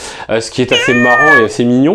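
A Bombay cat gives soft, gentle meows, several short rising and falling calls in close succession, close by and mixed with a person talking over them.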